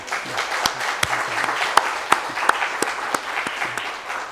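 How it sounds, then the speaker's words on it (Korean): A church congregation applauds the new piano accompanist after youth worship: steady clapping with sharp individual claps standing out, close and alone. "우리 자매분이 피아노 반주를 했는데 박수 한번 하시죠"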